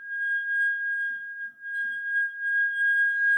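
A wet wine glass rim is rubbed until it rings one steady, pure sustained note with a faint overtone. The tone holds loud and clear for the whole span and dips only briefly once.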